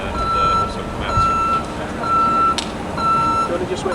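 A truck reverses behind the scenes at the 1991 Canadian Grand Prix paddock, its backup alarm sounding steady, evenly spaced beeps over a busy outdoor background while people talk nearby.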